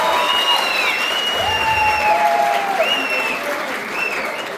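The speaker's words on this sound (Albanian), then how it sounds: "ju lutem për një duartrokitje të madhe për ta" An audience at a high school graduation ceremony for Eqrem Cabej gymnasium claps warmly and steadily for the parents, a dense, sustained applause with a few whistles rising above it.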